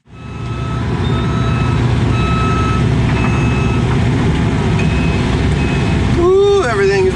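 Excavators idle and warm up on a cold morning, a loud, steady diesel rumble close by with repeated reversing beeps over it and a brief squealing, warbling tone near the end.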